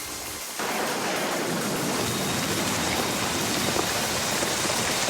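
Steady rain falling outside, a dense even hiss that starts abruptly after a brief quieter moment and then continues unbroken and fairly loud to the end.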